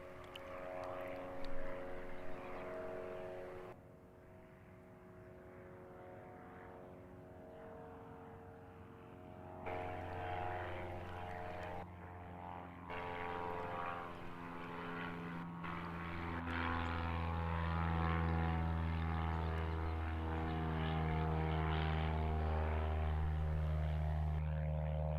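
A propeller aircraft that has already lifted off drones at a distance over an airfield at sunrise, its steady hum shifting in pitch and slowly growing fuller and louder.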